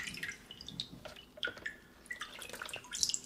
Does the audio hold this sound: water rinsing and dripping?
yes